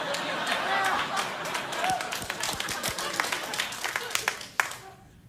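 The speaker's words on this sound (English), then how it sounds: "So there's 2 rounds of applause in this segment" A late-night talk show studio audience applauds, with scattered sharp claps and a crowd wash, while voices talk over it; the clapping thins and fades near the end.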